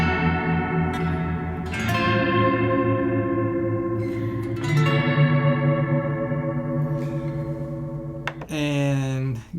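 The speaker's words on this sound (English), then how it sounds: "the last one, I have it set for kind of a pad sound." Enya NEXG 2 guitar played through a pad sound patch, giving sustained, layered chords with chorus, reverb and echo effects, several strummed changes across the passage and a sharper attack near the end.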